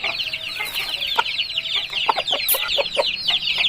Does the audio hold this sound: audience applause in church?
no